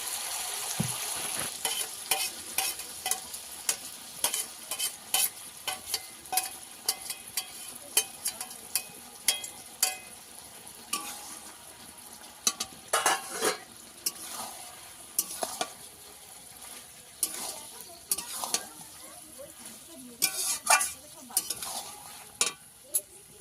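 A spatula stirs and scrapes through sizzling ridge gourd posto in a pan, with a steady frying hiss broken by frequent sharp clatters of the spatula against the metal.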